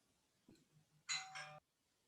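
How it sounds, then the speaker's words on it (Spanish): Short doorbell-like chime ringing during a physics class, a single bright two-part ding preceded by a faint knock, quiet and heard alone. "Oh, sonó como un timbre."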